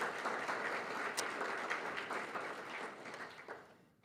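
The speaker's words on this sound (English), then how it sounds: "And once again, one more round of applause for Judy Hayner." Audience applause at a weekly club meeting, a steady wash of many hands clapping at moderate distance that holds for a few seconds and then fades out, with no talking over it.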